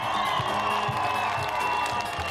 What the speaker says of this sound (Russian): Мы вам аплодируем